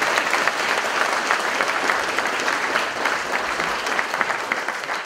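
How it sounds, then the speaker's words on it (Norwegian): A hall audience at a festival gives a steady round of applause for Vestnes mayor Geir Inge Lien, dense clapping holding at an even level for about five seconds. "Liten applaus, kanskje."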